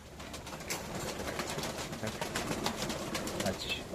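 Pigeons cooing faintly amid a busy rustle of wings and movement, a steady low flock murmur with scattered flaps, no one speaking.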